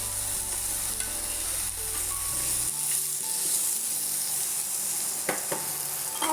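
Mixed vegetables with turmeric sizzle and fry in a pan while being stirred, steady close frying hiss with occasional scraping clinks of the spoon against the pan.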